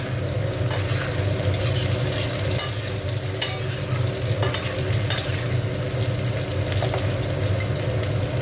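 Vegetarian dal tempering frying in a hot pan, a steady close sizzle with stirring and light scraping throughout and no talk.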